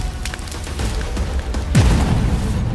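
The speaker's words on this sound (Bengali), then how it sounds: "ডাইনির অস্ত্র তান্ত্রিকের বলয়ে লেগে ধ্বংস হয়ে গেল।" A witch's hurled weapon strikes a conjured magic shield and shatters: a loud booming impact with a sweeping crash, set against a dense rumbling sound-effect bed.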